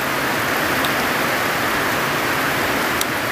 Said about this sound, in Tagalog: umulan na rin sa wakas